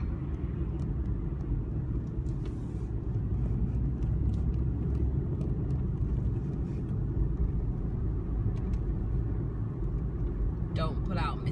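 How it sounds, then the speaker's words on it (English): Inside a car driving home through London, a continuous low engine and road rumble fills the cabin steadily throughout, with someone talking over it. "I'm just driving home."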